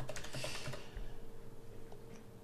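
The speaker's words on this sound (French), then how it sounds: "Vous tapez votre mot de passe." Quick, light clatter of keystrokes on a computer keyboard as a password is entered, close and fairly quiet, the tapping bunched in the first second before fading into faint room noise.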